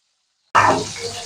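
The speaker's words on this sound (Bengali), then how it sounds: "খুব ভালো করে পটলগুলোকে ভেজে নেব" Pointed gourds (potol) dropped into hot oil for a traditional offering dish, setting off a sudden loud sizzle that bursts in and then settles into a steady, slightly quieter crackle close by.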